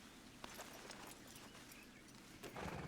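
Horses clip-clop in a ranch roleplay video game, soft hoof steps sounding faint and steady against a noisy background, with a brief louder thud near the end and no talk.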